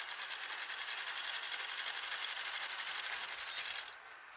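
Sewing machine stitching dark piping onto a light fabric fridge cover, a fast steady mechanical whir and rattle running close and loud, then stopping abruptly near the end.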